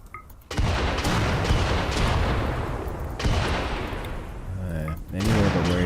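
Gunfire in the colony-survival game RimWorld, played during a cold-snap sea-ice challenge: dense bursts of shots and booms that fill most of the stretch. Someone talks briefly near the end.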